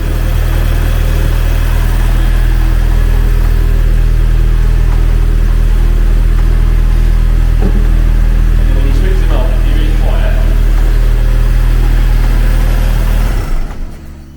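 A MK5 Golf GTI engine with 170,000 miles idles loudly and close by with a steady low rumble, with a faint hiss of air escaping from a faulty PCV valve, and voices talking over it before it cuts off.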